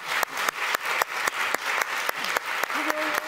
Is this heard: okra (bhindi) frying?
no